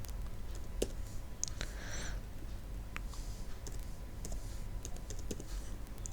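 Soft, quick keystrokes patter on a computer keyboard as a short password is entered, close and quiet, with irregular clicks and no talking.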